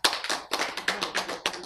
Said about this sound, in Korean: 박수 맞아요. 박수.